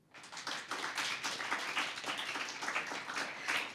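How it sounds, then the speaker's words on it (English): An audience at a secondary school debate competition in Antigua and Barbuda claps steadily after a speech, a moderate, even patter of many hands lasting several seconds. "And you know I like the applause."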